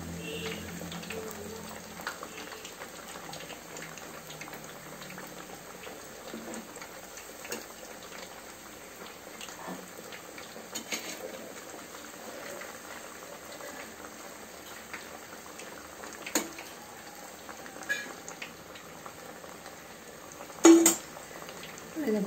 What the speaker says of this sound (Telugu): ఒక 5 మినిట్స్ అలా ఫ్రై చేస్తూ ఉంటే గోల్డెన్ కలర్లోకి వస్తాయి.